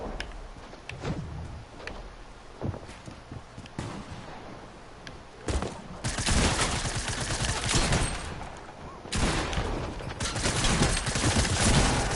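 Gunfire in Fortnite, with scattered shots early giving way to dense, loud bursts of firing and a brief lull, cluttered game noise throughout.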